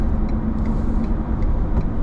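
Loud, constant low rumble of road noise inside a moving pickup truck, a dense steady drone with no talking.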